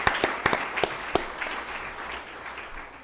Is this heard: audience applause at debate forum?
yes